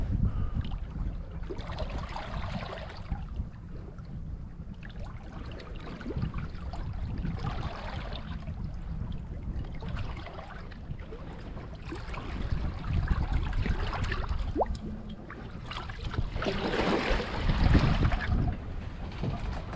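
Water sloshes and slaps steadily against a small sailboat hull at sea, with a low rumbling wash and gusts of wind noise swelling and easing throughout.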